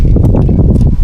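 A brief, loud burst of gusty wind outdoors during spray painting, roaring and buffeting the microphone with a deep rumble.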